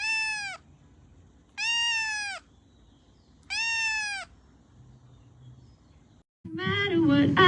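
A cat lets out three drawn-out meows separated by quiet pauses, close and clear, before a louder, busier burst of sound cuts in at the end.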